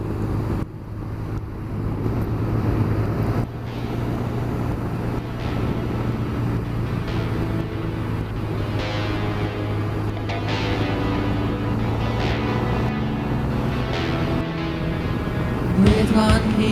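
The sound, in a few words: Honda Crosstourer motorcycle riding in sixth gear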